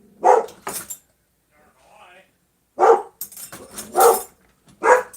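A dog barks sharply several times at close range, in short bursts separated by pauses, with a quieter whine in between.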